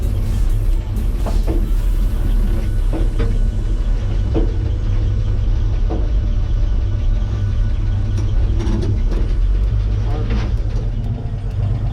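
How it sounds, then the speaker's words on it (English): A 1969 Chevrolet C10 pickup truck engine rumbles loudly and steadily, with a few revving surges and clunks over a constant low roar, close by. "I'm gonna rev up the engine"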